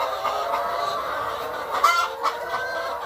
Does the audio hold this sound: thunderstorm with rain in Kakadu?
no